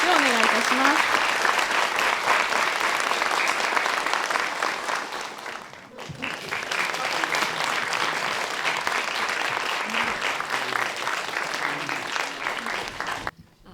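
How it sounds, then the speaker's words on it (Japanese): Audience applause at an architecture exhibition award ceremony, sustained clapping that dips briefly midway and then resumes. Faint voices mix in before it stops abruptly. "皆様大きな拍手をお願いいたします。"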